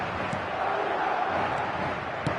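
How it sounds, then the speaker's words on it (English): Football stadium crowd at a match in an old-style ground close to the pitch, a steady, dense roar of many voices with a few brief louder accents. "An intimidating atmosphere in the crowd."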